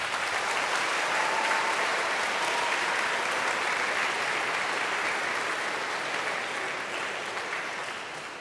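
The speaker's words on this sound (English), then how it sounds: "give them a round of applause." A school audience at an 8th grade recognition ceremony gives students a sustained round of applause, a dense even wash of clapping that holds steady and fades slightly toward the end.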